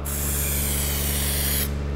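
A spray can lays a thick coat of clear lacquer in one steady, loud, close hiss that runs for most of the moment, then cuts off abruptly.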